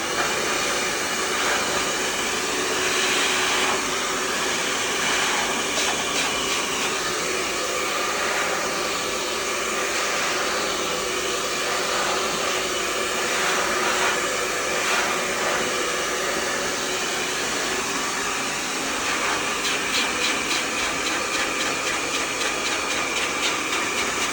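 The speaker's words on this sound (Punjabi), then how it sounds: "ਬ੍ਰਸ਼ ਦੇ ਪਿੱਛੇ ਡਰਾਇਰ ਰੱਖਣੀ ਹੈ ਤੇ ਬ੍ਰਸ਼ ਨੂੰ ਬਾਅਦ ਚ ਥੋੜਾ ਫੋਲਡ ਕਰ ਦੇਣਾ" A hair dryer blows steadily behind a hairbrush while short hair is styled, giving a continuous loud whooshing roar that holds even for the whole stretch, with no talking.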